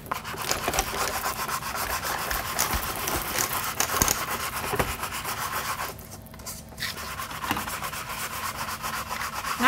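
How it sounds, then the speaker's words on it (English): Embossed craft metal sheet is sanded by hand with continuous close rubbing strokes, a steady gritty scratching that eases briefly partway through before resuming. "You can run yours through, Natalie, and I'll sand mine."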